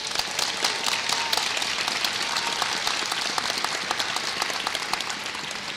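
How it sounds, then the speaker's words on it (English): Audience applause at a nursing school BSN pinning ceremony, a steady wash of many hands clapping that holds at an even level throughout, moderately distant, with no voices standing out. "Please give a round of applause to the family, friends, faculty, and staff who have been with you on this journey"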